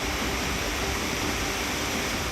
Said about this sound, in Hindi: ट्रैक पर जहां ट्रेन चलती है वहां बाढ़ का पानी रफ्तार से दौड़ रहा है